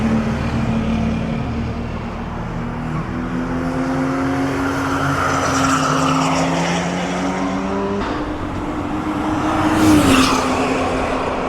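A BMW E36 325i laps an F1 circuit, its engine droning and rising through the gears with shifting pitch, loud and continuous from start to finish.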